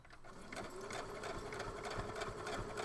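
Close, loud whir of a sewing machine running a straight stitch, with a steady motor drone and fast rhythmic needle pulses that continue without pause and no talk over them.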